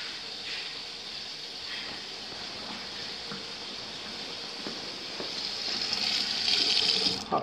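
Water runs steadily from a bathtub faucet in a newly built house, a continuous hissing splash that grows slightly louder near the end before cutting off.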